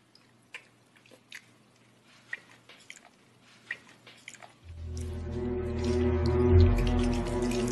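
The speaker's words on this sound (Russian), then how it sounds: "Ешь спокойнее, зачем так чавкать?" Wet chewing and bites come close and distinct in short bursts, then a loud, sustained low tone takes over the second half and masks them.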